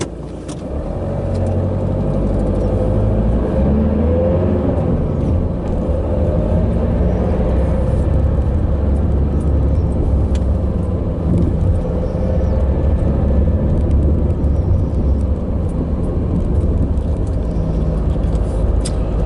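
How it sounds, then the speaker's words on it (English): A car driving along a road, heard from inside as a steady, loud engine and road rumble that holds constant throughout with no talking. "let's go for a bit of a drive"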